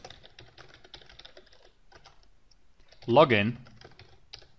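Keys clatter lightly on a computer keyboard while telnetting into a Cisco router, quick irregular taps fairly close and quiet, broken by a brief spoken word in the middle.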